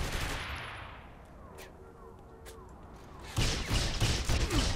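Gunfire in the video game Saints Row The Third comes as scattered distant shots, then a loud, dense burst of rapid fire erupts in the last second and a half.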